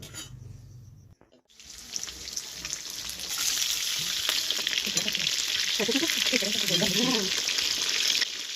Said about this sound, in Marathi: अशा प्रकारे थोडे मासे फ्राय करून झालेले आहेत